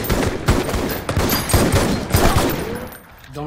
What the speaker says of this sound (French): la séquence de la fusillade dans le dortoir